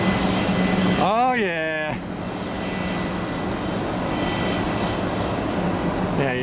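A jet airliner roars steadily as it arrives at Tampa airport after the airport reopened following Hurricane Idalia, loud and close throughout, with a man's brief excited remark partway through.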